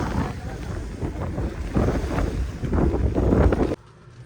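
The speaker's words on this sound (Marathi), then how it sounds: "खूप सारी हवा" Strong wind buffets the microphone at Veer Dam, a steady roaring rush with gusts swelling louder before cutting off abruptly near the end; open water and distant surf-like noise sit beneath it.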